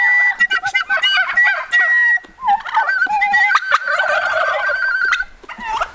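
Turkeys gobble loudly and close by in a chicken tractor near a farm processing area, several birds overlapping in bursts of warbling, rattling calls with short gaps between them.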